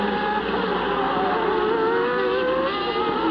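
Formula 1 cars including Ferraris at the 1990 Mexico Grand Prix, a loud high-pitched engine scream with overlapping rising and falling tones as cars race past.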